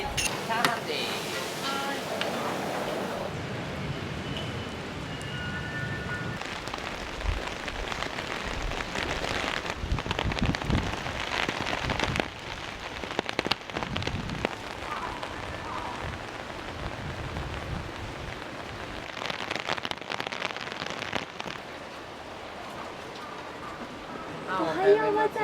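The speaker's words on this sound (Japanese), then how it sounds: "あいにくの雨で。" Steady rain patters outside a busy Chinese chain restaurant in Saitama, a continuous hiss of drops on surfaces with occasional heavier splashes, while people talk nearby.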